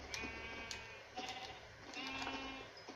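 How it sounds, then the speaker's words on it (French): Sheep bleating in the video game Minecraft, several short game-sound bleats over a steady background, clearly audible and fairly close. "On a des moutons, mais c'est génial."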